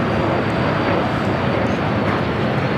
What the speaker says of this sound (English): now touching down. Flight 603 coming in from Amsterdam on the 787-10 Dreamliner